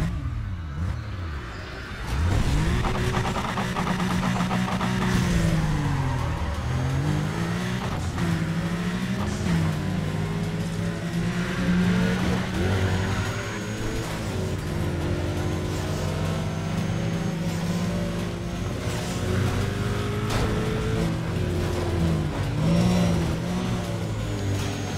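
Race cars in Need for Speed Undercover roar continuously, engines rising and falling through gear shifts and revs, loud and sustained throughout.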